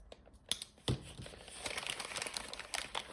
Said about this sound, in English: let's get this carefully cut across here.